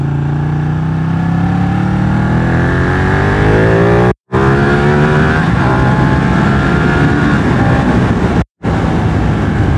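A Ducati 1199 Panigale motorcycle accelerates hard, its engine revving loud and close as it climbs through the gears. Two sharp quick-shifter cuts briefly break the roar between rising pulls.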